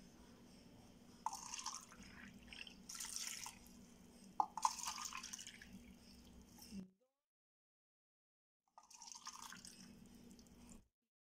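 Water measured for a homemade red berry ice cream base, poured in small splashes and drips that come in bursts, stop briefly, then resume, quiet and close.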